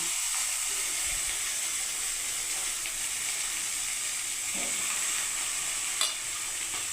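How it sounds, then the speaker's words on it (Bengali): Diced raw green banana frying in a little oil in a pan, a steady bright sizzle carrying throughout with a few faint scrapes and a brief clink near the end, close and continuous with no voices. "এবার ব্যানানা দিয়ে দিচ্ছি বন্ধুরা, কলা, কাঁচা কলা, খুব সামান্য তেলে কিন্তু বন্ধুরা দেখুন।"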